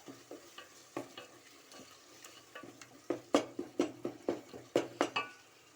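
A spoon stirs finely chopped coriander and mint into egg dum biryani in a pot over low heat, making a run of scraping, clinking strokes that start soft and grow louder and quicker toward the end, with no talking.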